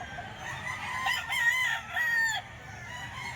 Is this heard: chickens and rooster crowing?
yes